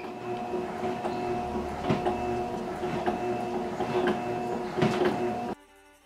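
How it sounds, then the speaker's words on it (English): A machine runs the edges of a hair mat made for soaking up oil spills, giving a steady mechanical hum with a tonal drone and periodic clunks and thumps, then cutting off abruptly near the end, with no talking. "Run each edge through the machine."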